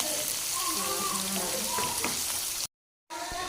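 Small boneless chicken pieces fry in a pan with a steady sizzle and light stirring clinks; the sound cuts out briefly near the end, then resumes.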